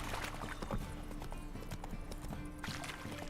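Horse hooves clopping at a steady run in The Witcher 3, a continuous rhythmic patter of hoofbeats close by with a low background hum.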